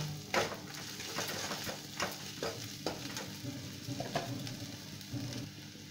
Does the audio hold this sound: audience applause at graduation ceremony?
no